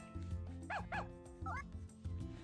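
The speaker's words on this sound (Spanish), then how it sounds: "Un perro." A few short yips from a dog ring out in the farming video game Story of Seasons: A Wonderful Life, sitting over a background of game music.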